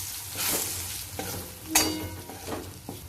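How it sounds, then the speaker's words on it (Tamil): Chili powder and sambar powder sizzle in an iron pan while being stirred for vatha kuzhambu, with several close scraping stir strokes over a steady frying hiss. "அது 2 நிமிஷம் நல்லா இருப்பச்சட்டியில் வதக்கிட்டு அப்புறமா புளி கரைச்சி ஊற்றணும்"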